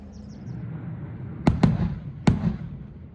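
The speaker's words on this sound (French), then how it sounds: "vous avez entendu ce matin les explosions" Three distant booming blasting explosions at the Potosí silver mine, the first two close together and the third a moment later, over quiet outdoor ambience with faint bird chirps.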